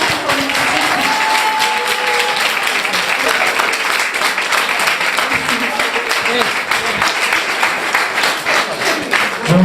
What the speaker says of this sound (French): Encore, collègues, applaudissements.